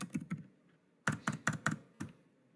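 Keys clacking on a computer keyboard, close and crisp, a quick burst of three strokes, a pause, then a rapid run of five taps in a quiet room.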